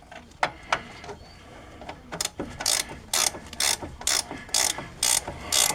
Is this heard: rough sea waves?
no